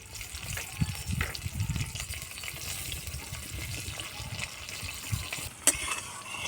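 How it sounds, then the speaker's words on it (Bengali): Cumin seeds and chopped onion tempering in oil left over from frying fish, a quiet, continuous crackling sizzle with stirring scrapes, one sharper pop near the end, close by. "এর মধ্যে জিরা ও কুচানো পেঁয়াজ ফোড়ন দিয়ে দেবো।"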